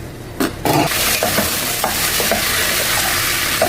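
Squash (kalabasa) stirred in a hot frying pan, with a steady sizzle and frying hiss throughout and scraping, clattering stirring strokes recurring every half second or so, close and fairly loud.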